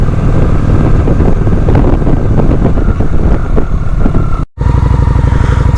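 A motorcycle rides through hot Texas weather, its engine droning loud and steady with heavy wind buffeting the microphone; a brief dropout cuts the sound near the end before the roar resumes.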